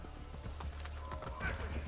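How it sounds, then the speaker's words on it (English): Horse hooves clip-clopping in the video game Assassin's Creed Brotherhood as the mount gallops closer, steady beats under background game noise and someone talking. "So maybe I should call my horse. And he's coming this way."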